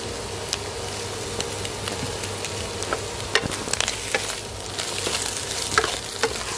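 Salted turnip and egg stir-frying in a pan, seasoned with soy sauce and oyster sauce: a steady, close sizzle runs throughout, broken by sharp scraping clicks of stirring at irregular intervals, with no talking.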